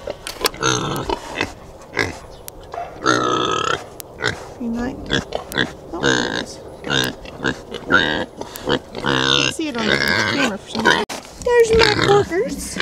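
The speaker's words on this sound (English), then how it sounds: "There's my porkers." Pigs on a small farm grunt and oink over and over in short, irregular bursts, close and loud, with a person talking among them.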